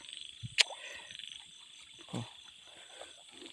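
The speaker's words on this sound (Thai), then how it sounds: "ขออนุญาตปลดกบก่อน" A frog caught on a fishing hook along a stream gives a few short, faint croaks, with a soft insect hum and quiet outdoor ambience between them.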